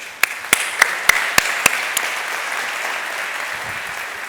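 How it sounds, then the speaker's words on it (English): A handful of sharp individual claps start off scattered, then blend into a light, steady patter of applause from a modest crowd at a React.js tech conference. "let's give a round of applause for the organizer."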